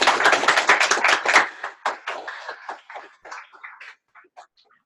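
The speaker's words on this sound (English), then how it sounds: "Can we do a round of applause for..." Brief round of applause from a small audience at the close of a cyber defense workshop, a dense burst of clapping that thins out and fades to a few scattered claps.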